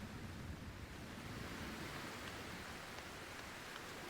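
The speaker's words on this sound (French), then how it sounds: "On abandonne le temps de pluie, c'est bon, on respecte la pluie." Rain falling in the video game Cairn, a faint, even hiss of steady rainfall with no other sounds.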